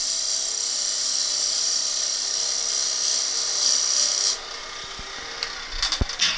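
A wood lathe cuts a small plug about an eighth of an inch deep for a carved flower bud vase, a continuous high whirring drone that stops abruptly, followed by a few light knocks.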